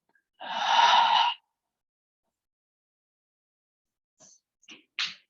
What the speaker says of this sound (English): take a deep breath in through your nose. And exhale everything out